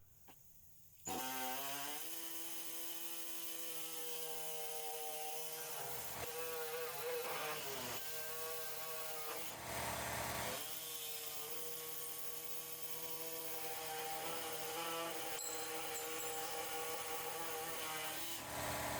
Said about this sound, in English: Make a cut on each side of the carrier frame.